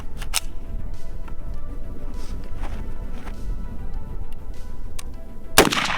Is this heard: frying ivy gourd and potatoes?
no